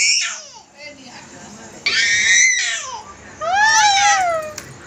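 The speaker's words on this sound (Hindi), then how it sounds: "जोर जोर से चिल्ला रहे।" A baby screams loudly at night indoors in several long, piercing bursts with rising and falling wails, separated by brief gaps of babbling and fussing, close and intense.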